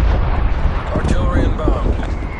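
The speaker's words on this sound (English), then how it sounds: "Hostile artillery targeting active." Heavy artillery barrage in the video game Call of Duty Cold War, a dense, loud rumble of booming blasts that roll continuously without clear gaps.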